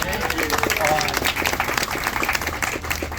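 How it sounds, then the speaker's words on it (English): An audience applauds a congressman at a community coffee meeting, a continuous wash of clapping over a murmur of voices throughout. "So can we applaud for Congressman?"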